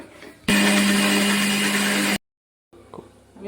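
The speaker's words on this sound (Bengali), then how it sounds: "এখন সরষে আর পোস্ত পেস্ট করে নেব।" A blender grinds mustard and poppy seeds into a paste in one loud, steady whir of about two seconds that cuts off abruptly, followed by a short silence and quieter kitchen background.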